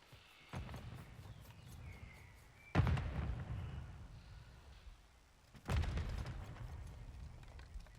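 Grenade launcher explosions in the video game Call of Duty, with two loud, booming blasts a few seconds apart, each followed by a rumbling low tail under a steady background hum.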